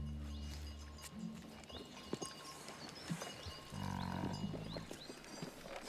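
A reindeer herd belonging to Yakut herders in Siberia moves at a distance, with faint scattered hoof clatter and brief low animal calls over a quiet outdoor background.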